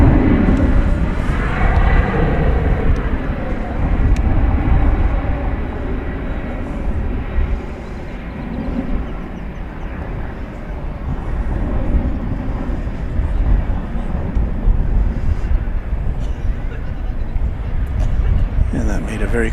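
A jet airliner taking off at DFW Airport, a loud sustained engine roar swelling and easing across the runway, with a person talking over it throughout.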